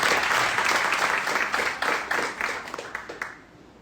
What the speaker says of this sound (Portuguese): O pessoal pode dar um aplauso para Jesus pela vida dele?